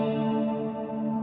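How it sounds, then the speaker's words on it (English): A Strymon Nightsky reverb pedal set to a basic reverb rings out a sustained chord, its tones smeared into a smooth wash that holds steady and alone. "just a basic reverb"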